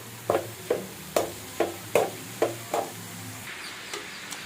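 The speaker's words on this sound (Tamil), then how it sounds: "இப்போ கிண்டி விடணும் நல்லா." Cabbage tossed with turmeric and salt in a pan, stirred with a spoon: about nine sharp, evenly spaced scraping knocks, close and fairly loud, fading softer toward the end.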